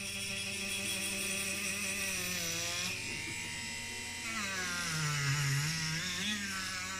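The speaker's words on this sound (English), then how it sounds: "And I'm gonna buff out the bonnet here." A power polisher buffs the bonnet of a 1964 Chevrolet Chevelle station wagon after paint stripping, giving a close, steady motor whine whose pitch dips and rises as pressure changes, running continuously throughout.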